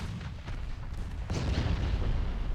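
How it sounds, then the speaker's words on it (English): A torpedo detonation on a cruiser in the naval battle game Ultimate Admiral Dreadnoughts: a dull, rumbling boom that swells partway through, over a continuous low roar of battle noise, with no talking. "Torpedo detonation on the cruiser, that is good"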